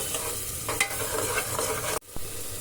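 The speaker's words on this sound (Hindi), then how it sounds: "अभी मसाला मैंने हल्का हल्का सा फ्राई किया" Masala spices frying with browned onion in a pan for a dhaba-style cluster bean sabzi, a close, steady sizzle with stirring scrapes and a brief break near the end.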